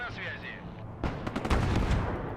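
Missile launch and blasts in the military strategy game Broken Arrow: a thin whistling streak, then a burst of loud rumbling booms and crackling explosions that fill the second half.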